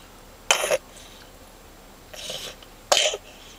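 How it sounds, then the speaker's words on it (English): A small child coughs three times in short, rough bursts, spaced about a second apart, close to the microphone in a quiet room. "Got a bad cough?"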